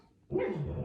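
A guide dog barks in its sleep while dreaming indoors, a short muffled woof that starts abruptly after a moment of silence and carries on as a close, sustained bark-whine.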